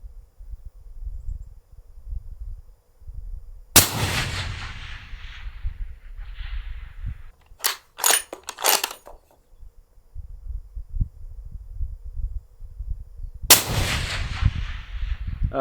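Two heavy, booming shots from a suppressed Barrett MRAD rifle in .338 Lapua Magnum ring out about ten seconds apart outdoors, with a few quick metallic clicks of the bolt between them over a quiet, breezy background.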